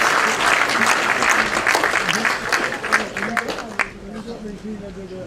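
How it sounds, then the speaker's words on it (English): Dense, loud applause from an audience at a heritage month community event, sustained clapping for performers that thins out near the end, with a few voices murmuring underneath. "One last round of applause for everyone who performed today."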